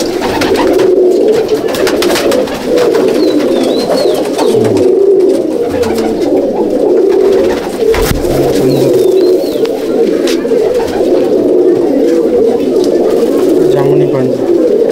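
Madrasi pigeons in a loft coo steadily and loudly at close range, a dense layered murmur of bird calls with a few brief chirps, and someone talks briefly over it.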